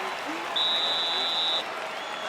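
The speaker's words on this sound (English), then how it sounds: "Crowd going crazy." A virtual arena crowd roars in the EA Sports UFC 5 video game during a women's bout between Julianna Pena and Macy Chiasson, a steady, dense wash of cheering with a brief high tone cutting through.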